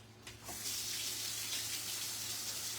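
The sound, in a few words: water from tap rinsing a brush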